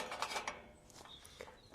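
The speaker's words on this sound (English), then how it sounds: "we need to now slide the bolt in" A metal bolt slides into a Zedlock door lock, giving a short scraping, clicking mechanical rattle close by, quiet and alone.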